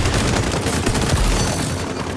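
Rapid automatic gunfire from a weapon in a first-person shooter video game, a dense, continuous burst of loud shots lasting a couple of seconds with no talk.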